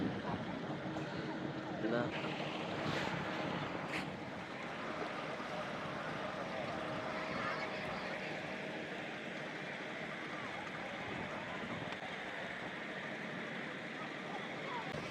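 Motorboat crossing the sea off Jaffna toward Palaitivu island, a steady engine drone with wind and water rush running loud and constant throughout.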